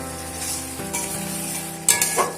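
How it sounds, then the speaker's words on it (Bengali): Powdered garam masala is stirred into pointed gourd frying in a pan for a vegetarian potol bahar. A steady close sizzle runs throughout, with spatula strokes and a louder scraping burst near the end. No one speaks. "গরম মশলাটা দিয়ে একটু নাড়াচাড়া করে নিচ্ছি।"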